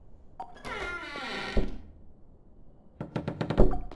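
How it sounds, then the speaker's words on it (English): Tapping on a window in a horror video game, with a cluster of sharp, quick raps near the end following an eerie wailing tone, close and fairly loud with no talk. "And somebody's like tapping on a window."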